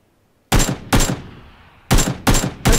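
Five loud, close gunshots in a PUBG match, two quick shots, a pause, then three more in steady succession, with no talk over them.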